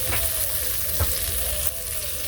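Onions sizzle steadily in a hot pan in a village kitchen, a close, dense crackle with brief stirring knocks and no voices.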